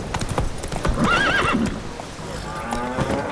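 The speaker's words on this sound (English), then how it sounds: "Run, Roach" Horse hooves clip-clopping at a gallop in The Witcher 3, with a neigh and whinny mid-clip over the game's ambient sound, close and steady throughout.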